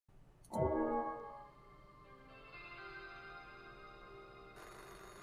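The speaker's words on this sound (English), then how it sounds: "another phone call" An incoming telephone call rings in the horror game VHS 1986. A sharp, loud burst opens the clip, then a sustained electronic ringtone follows with repeating tonal pulses and no voices.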